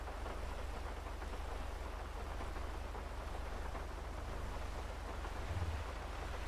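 Video game rain: steady, dense rain hiss pours continuously with a low rumbling undertone, unchanging throughout.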